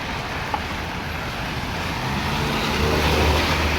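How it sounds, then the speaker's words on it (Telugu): A steady, continuous rumble of road traffic fills the background, with vehicles passing at a moderate distance and no clear voices. "చూడండి ట్రాఫిక్ ఎట్లుందో"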